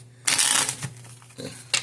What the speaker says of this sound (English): Ooh, that was an ugly ass shuffle.